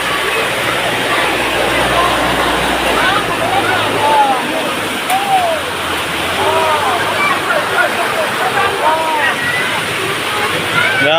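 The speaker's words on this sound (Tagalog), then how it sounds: "Grabing baha sa dagat." Loud, turbulent flood water rushes and churns continuously, a dense roaring wash with sloshing surges, while muffled voices sound faintly underneath.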